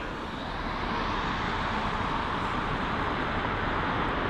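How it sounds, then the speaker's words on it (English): A British Airways Boeing 787-10 Dreamliner arriving at London Heathrow from New York produces a loud, broad, steady jet roar that holds constant throughout. "So here it is, the British Airways 787-9 Dreamliner."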